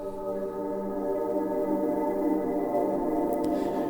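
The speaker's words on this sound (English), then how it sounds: "So I've got my second layer done and the pad now sounds like this" Sustained layered synth pad with a kalimba layer, washed in reverb and delay, holding steady rich harmonic tones alone with a faint bright plucked accent near the end.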